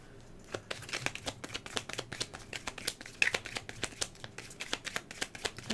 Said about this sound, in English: Now the deck is like shuffling differently